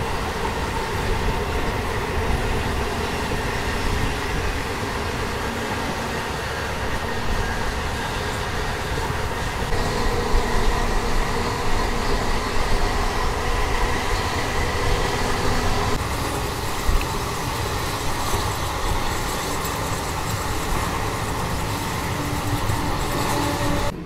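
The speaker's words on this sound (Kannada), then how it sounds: "ಇದು ನಮ್ಮ ಟ್ರೈನ್ ಸದ್ಯಕ್ಕೆ ತಲುಪಿದೆ ಶ್ರೀನಿವಾಸ್ಪುರ್ಗೆ." A MEMU train runs on the Bengaluru–Kolar line near Srinivaspur, with a steady loud onboard rumble and wheel noise, continuous clatter, and a faint squeal throughout.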